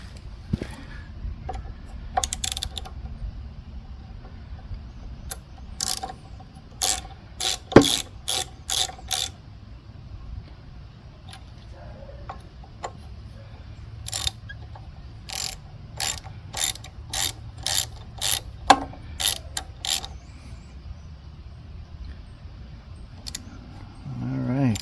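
A ratchet tightening set screws on a Tecumseh engine fitted to an Ariens rototiller, giving quick runs of sharp clicking in several bursts, close up, with faint background noise between.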